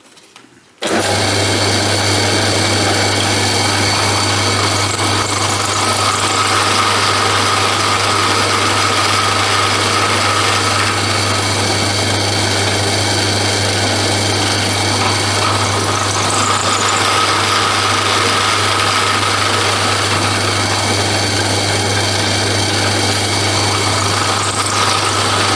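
An electric drill runs continuously while drilling metal during locomotive stretcher repair work, a loud steady whine with a strong low hum, starting abruptly after a brief silence and holding unchanged throughout.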